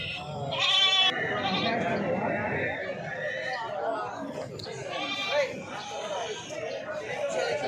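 A goat bleats at a provincial livestock market, a couple of wavering cries rising above steady crowd chatter and nearby talking voices.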